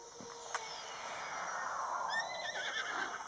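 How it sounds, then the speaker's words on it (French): A horse whinnies in The Legend of Zelda: Breath of the Wild, a rising and falling neigh, fairly close, over a steady background hum with a brief click early on. "J'appelle mon cheval."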